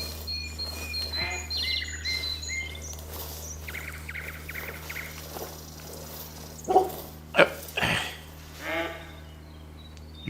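Bird calls ring out in theHunter: Call of the Wild, short chirps and whistles over a steady outdoor ambience in grassland, followed by a few sharp, louder flutters or cries near the end.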